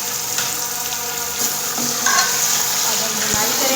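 Two kilos of vinegar-washed beef liver frying in a pot with cumin and spices, a loud, close, unbroken sizzle with occasional stirring scrapes and a single knock near the end.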